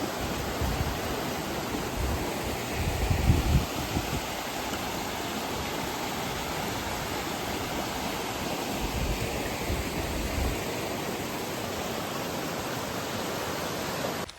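A village river running high in the monsoon, its water flowing in a steady, broad rush with no speech over it, swelling slightly for a moment near the start.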